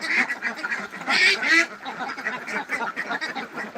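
Several ducks quack repeatedly nearby, their calls overlapping in a busy, uneven chorus.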